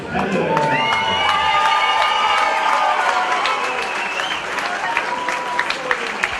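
A crowd at a mixed martial arts event applauds and cheers steadily, with whistles and shouts rising over the clapping.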